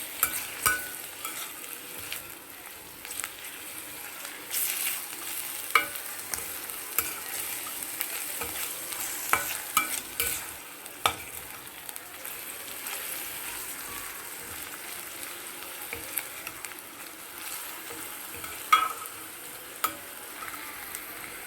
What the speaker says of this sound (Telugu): ఇప్పుడు అల్లం వెల్లుల్లి పేస్ట్ వేసేద్దాం పచ్చివాసం పోయేదాకా వేయించండి